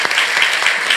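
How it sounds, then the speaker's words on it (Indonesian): A church congregation in Batam claps together during a worship service, a short, loud burst of many hands with slight uneven surges in rhythm. "Beri tepuk tangan lagi buat Tuhan Yesus."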